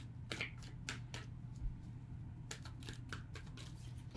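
Oracle cards are shuffled quietly, giving soft, crisp riffling clicks in short irregular clusters over a faint low hum.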